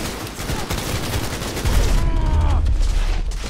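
Dense, continuous gunfire from a Cyberpunk 2077 boss fight against Smasher, with rapid overlapping shots that swell louder and heavier partway through, loud and close.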